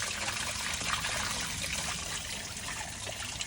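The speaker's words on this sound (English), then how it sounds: "Running clean water out there" Clean flush water trickles and pours steadily from an old Chevy truck engine during a cooling-system flush, a continuous close, even splashing stream with no talk over it.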